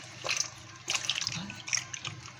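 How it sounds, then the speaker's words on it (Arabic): Water splashes and trickles in short bursts, a running stream poured over raw chicken close by, with brief pauses between pours. "وهنرش الفرخه بالراحه خالص عشان يا حبيبتي ما تغرقيش نفسك بالميه"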